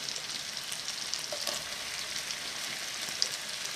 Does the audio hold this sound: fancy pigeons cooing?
no